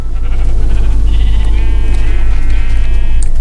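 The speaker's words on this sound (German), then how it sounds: "Oh, ein Schaf." A Minecraft sheep bleats loudly and close up, a single wavering in-game bleat heard alone over a low steady hum.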